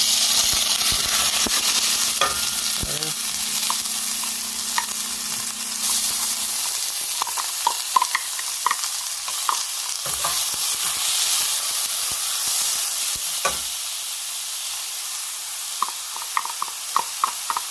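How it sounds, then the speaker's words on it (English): Onion fries in a pan over high heat for an Italian gnocchi dish, with a loud, continuous sizzle and hiss and scattered clinks and scrapes of stirring. "I'm gonna throw the onion now"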